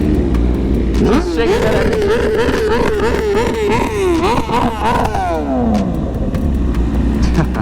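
Car engines rev loudly at an underground car meet, rising and falling in a few throttle blips that echo in the enclosed space, close and dominant, with people talking and laughing underneath.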